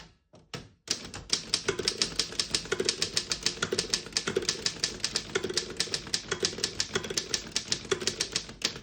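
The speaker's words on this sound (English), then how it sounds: "I'll type a sentence on the next line." A 1933 Underwood No. 6 manual desktop typewriter clacks in a brisk, uneven rhythm of sharp keystrokes, close and crisp, with faint mechanical thuds between strikes.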